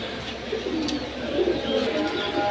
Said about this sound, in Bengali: সুন্দরী কবুতর